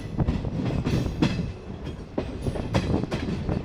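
The Tebhaga Express, a Balurghat–Kolkata superfast train, runs on its rails with a steady, loud rumble and repeated clickety-clack wheel beats close by, no voices.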